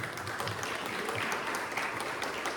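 A church congregation claps during a Pentecostal-style evening service, a dense, even wash of applause heard at moderate distance, steady and unbroken without speech.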